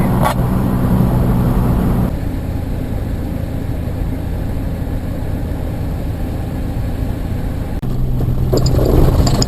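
A car cruising along Greenhorn Highway through Puma Canyon in Colorado, heard from inside: a steady low engine and road rumble that holds throughout, with a slight shift in tone near the end.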